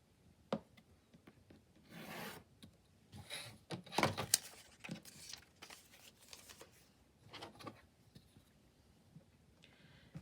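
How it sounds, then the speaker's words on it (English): Paper is cut into 2-inch strips for a handmade journal cover, soft scraping and sliding strokes with a few sharp snips and rustles, quiet and close, spaced irregularly with pauses between. "Okay, so you just want to cut yourself some strips."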